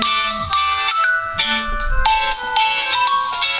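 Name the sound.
Aiwatch P360 smartwatch ringtone from an incoming test call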